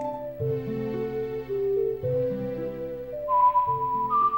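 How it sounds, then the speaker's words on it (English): Tonal melody of a song in Zelda: Ocarina of Time, steady sustained notes stepping through a tune with a higher whistled line joining near the end, loud and clear with no talking. "it's a horrible whistle"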